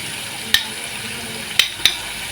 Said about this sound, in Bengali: ধনিয়ার গুঁড়াটা দিয়ে হালকা একটু নাড়াচাড়া করে নিতে হবে